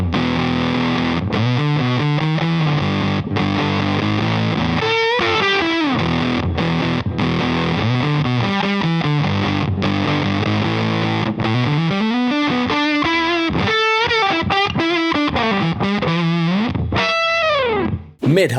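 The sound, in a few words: muffled Fuzz Face type fuzz guitar tone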